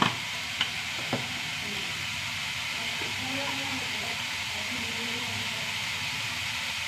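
Tomato masala frying in a pan gives a steady, close sizzle while spice powders such as turmeric and chilli are stirred in, with a few faint clinks at the start.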